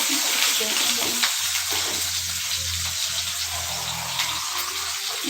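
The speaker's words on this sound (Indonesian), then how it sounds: "ini bawangnya goreng sampai layu ya" Onions frying in a home kitchen pan for a homestyle steak dish, a steady close sizzle and hiss that holds throughout, with a low hum underneath.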